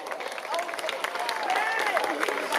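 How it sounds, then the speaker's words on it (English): Applause and clapping from an outdoor crowd at an AIDS walk event, a steady wash of claps with faint cheering that runs the whole time under a mix of voices. "please join me in a big round of applause for everyone"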